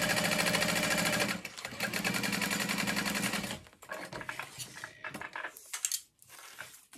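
A sewing machine stitches a vinyl-trimmed backpack seam at a quarter-inch allowance, running in a loud steady burst for over three seconds, briefly pausing, then resuming before trailing off into quieter handling sounds.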